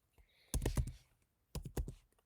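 Computer keyboard typing as a prompt is entered, two short quiet bursts of several rapid clicks each, separated by a pause, with no voices.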